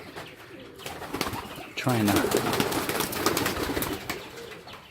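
Pigeons coo inside a pigeon loft, a low soft throaty cooing close by with some rustling and shuffling around it, and a faint voice speaking briefly.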